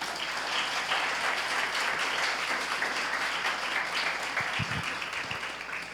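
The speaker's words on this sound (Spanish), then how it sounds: "Denle otro aplauso al Señor." A church congregation claps and applauds continuously, a dense, moderately distant wash of hands throughout with faint voices mixed in.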